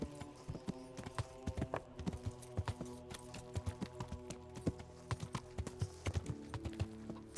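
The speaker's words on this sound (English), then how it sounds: "Learn how to ride a horse" Horse hooves clip-clop steadily while riding in the video game Kingdom Come Deliverance, a brisk, even rhythm of sharp, close hoofbeats that continues throughout.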